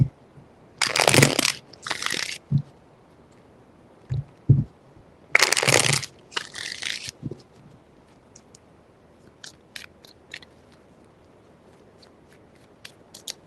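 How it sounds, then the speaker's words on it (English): Tarot cards are shuffled in short riffling bursts, two main crackling flurries with softer taps and clicks between, close and alone without talk. "Three shuffles."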